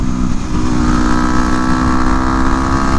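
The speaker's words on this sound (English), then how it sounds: "Bike feels a lot better to shift now." A 2009 Yamaha WR250X supermoto motorcycle being ridden, a loud, close, buzzy single-cylinder engine holding a steady drone with wind rush and no voices.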